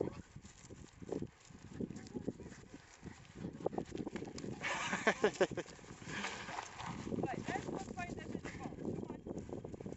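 Pony hooves clip-clop unevenly across the ground on a farm at Fair Isle, Shetland, while people talk nearby, with other farmyard noise mixed in.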